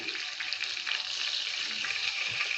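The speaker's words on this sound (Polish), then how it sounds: "Och, pięknie wygląda, jak skwierczy jeszcze." Continuous crackling sizzle of a pork cutlet frying in a hot pan, close and steady, with a bright fizzing texture throughout.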